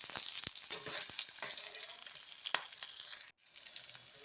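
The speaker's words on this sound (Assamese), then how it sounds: "আৰু মই ইয়াতে দিছোঁ নহৰু কেইফুটা, আদা আৰু জলকীয়া কেইটা এইদৰে মই টুকুৰা টুকুৰ কৰি ভাঙি অলপ সময় ভাজি ল'ম।" Garlic, ginger and broken chilies frying in a pan of hot oil, a steady close hiss of sizzling with scattered crackles and a brief stir sound, continuous and alone without talk.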